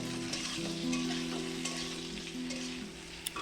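Kashmiri chili powder, ground black pepper and other spices frying in oil for a katla fish curry, a dense, even sizzle close by with faint stirring, unbroken throughout.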